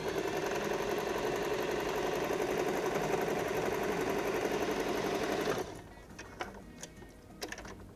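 An electric sewing machine stitches fabric for a jewelry organizer, a loud steady rapid whirring hum that runs for about five seconds, then stops, leaving a few faint clicks and handling sounds.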